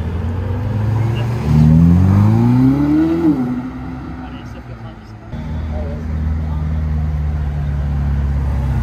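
A Porsche 993 RS sports car at Top Marques Monaco revs loudly and pulls away, its engine note rising through a gear and then falling off as it recedes, with people talking nearby throughout.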